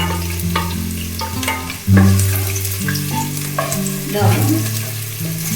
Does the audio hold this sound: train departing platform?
no